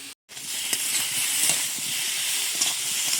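Catla fish sautéing in hot oil with salt and turmeric, a loud continuous close sizzle with crackling pops throughout, after a very brief silent gap at the start.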